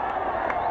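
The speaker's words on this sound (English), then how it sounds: "Crowd trying to help him out. Listen to that roar." A large football stadium crowd at a college game between Texas and BYU roars in a loud, steady wash of cheering that continues for the whole short stretch.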